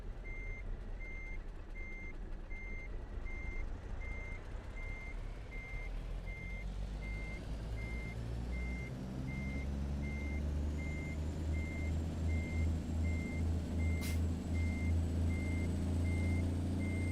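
A Kenworth K100E cabover truck in a driving game backs into a tight depot spot, its reversing alarm beeping steadily at an even pace over a low idling engine rumble, with a brief air-brake hiss near the end.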